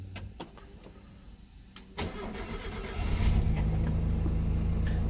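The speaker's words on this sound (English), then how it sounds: "record a short clip of what the ITBs sound like cranking over and starting" Mazda Miata engine converted to GSXR individual throttle bodies cranks for about two seconds, then catches and settles into a loud, steady idle close by, with no talk.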